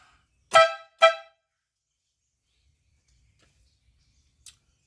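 Two short, loud air horn blasts from a buggy sound in quick succession, followed by silence and a faint brief chirp near the end.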